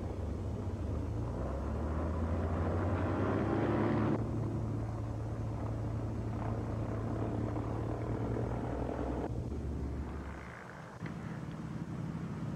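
Airplanes flying in to land at the 1985 Oshkosh fly-in, a continuous loud droning propeller engine roar with a low steady hum that swells and then eases off, heard up close without talk.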